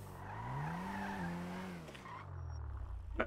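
A video game car engine whines and rises in pitch, then settles into a steady drone, ending with a short screech of tyres, no talk.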